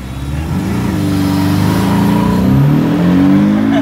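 A Porsche revs hard and launches, its engine rising in pitch and holding a loud, close, continuous roar that climbs and shifts through gears over nearly four seconds.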